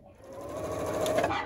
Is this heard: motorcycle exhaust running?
no